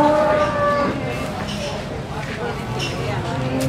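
Black Limousin cattle moo at a busy cattle market in Muntilan, with a long, low call near the start over a steady background of crowd noise and people talking.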